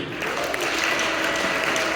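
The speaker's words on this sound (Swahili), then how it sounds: "Basi jipigie makofi mwenyewe." A church congregation claps steadily for a couple of seconds during a sermon, a dense, even wash of applause with no clear voices.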